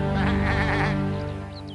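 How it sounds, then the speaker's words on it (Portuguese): A cartoon sheep on a farm bleats loudly and steadily, a wavering, quivering call that holds for about a second and then fades away. "Vamos ver as ovelhas da Dona Apito"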